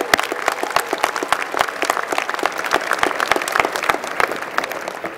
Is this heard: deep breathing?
no